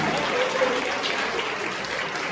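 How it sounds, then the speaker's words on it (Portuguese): A church congregation gives a round of applause during a sermon, a dense, even patter of clapping heard at moderate level, steady for its short length. "Dê uma salva de palmas para Jesus."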